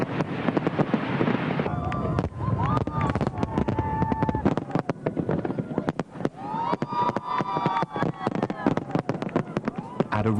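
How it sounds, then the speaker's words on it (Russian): Fireworks rockets bursting in the sky over a city, a dense rapid crackle of sharp pops and bangs with whistling streaks, continuous and loud throughout, with a voice talking over it. "команда пиротехников запустит в небо над городом множество разрывающихся ракет"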